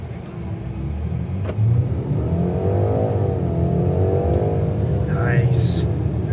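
A 2025 BMW X3 30 xDrive SUV engine roars during a hard launch acceleration, the pitch climbing and falling, with people talking inside over the noise.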